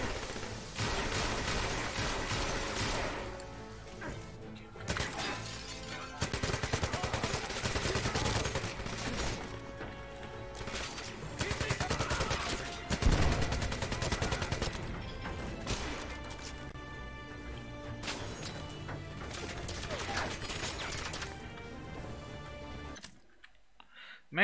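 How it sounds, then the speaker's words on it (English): Gunfire in the video game 007 Legends runs as sustained automatic bursts and repeated shots, loud and dense for over twenty seconds with brief pauses and crashes, then cuts to near silence at the end. "I'm shooting the fucking thing."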